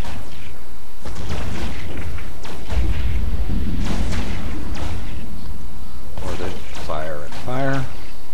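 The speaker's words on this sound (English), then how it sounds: "Let's just get all weapons firing on the one thing." Ship weapons firing in the space game EVE Online: a run of deep thuds and booming blasts with whooshes, followed by bright electronic warbling zaps near the end, loud and close, with no speech.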